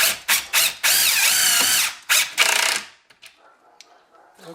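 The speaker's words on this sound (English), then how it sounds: "I will go ahead and screw this all the way down" A power drill drives 5/8 inch screws into a concrete countertop form, with several short bursts followed by a longer whirring run and a final burst, then quieter handling noises.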